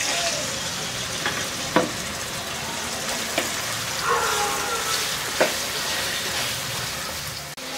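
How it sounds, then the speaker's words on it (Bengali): Chicken pieces fry in hot oil in a wok, giving a steady, close sizzle with occasional sharp clinks of a utensil against the pan. "আমি একটা কড়াইয়ে কিছু তেল গরম করে তার মধ্যে এই মুরগিগুলোকে একটু ভেজে নিব।"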